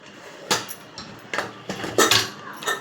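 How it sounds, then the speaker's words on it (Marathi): A pressure cooker lid is opened after cooking veg pulao, giving several sharp metallic clanks and clicks spaced irregularly over a quiet kitchen background, with no voices. "आता मी कुकर खोलते"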